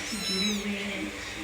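A house cat meows once, a clear, close, drawn-out call that rises and falls over about a second against quiet indoor background noise.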